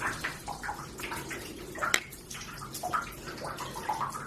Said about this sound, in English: So here's the water coming out of the shower head without the restrictor.